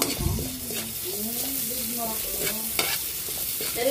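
Garlic sizzles in a hot pan for pork caldereta, a loud, close, continuous frying hiss with clinks and scrapes of a utensil stirring, and a faint tonal squeal threading through.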